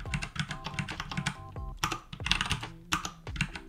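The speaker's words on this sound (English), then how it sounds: "Hey, I typed it." Rapid typing on a computer keyboard, close and fairly quiet, with uneven bursts of key clicks and a few short pauses between them.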